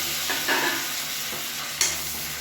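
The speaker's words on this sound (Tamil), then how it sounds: "இஞ்சி பூண்டு பேஸ்ட்டு பச்சை வாசனை போக வதக்கணும்" Ginger garlic paste and tomato sautéing in a pan, a steady close sizzle with a few scrapes of a spoon stirring through it, no talking.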